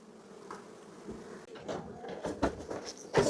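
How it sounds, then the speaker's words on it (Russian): Soft honeybee buzzing with scattered knocks and rustles close by, a low drone rising and falling around an apiary hive in August. "Мы видим, что везде есть пчела."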